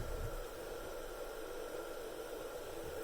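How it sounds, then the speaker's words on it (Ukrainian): A steady, broadband hiss runs without a break as a 1000 W steam cleaner heats its water toward a boil, faint and even from start to finish. "вода закипіває"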